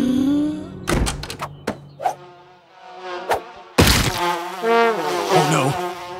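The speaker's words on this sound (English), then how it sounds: "Oh no. Not bees! No, not the bees!" Cartoon bee buzzing darts in and out amid sharp thumps and knocks, then swells with a burst of frantic activity and noise near the end.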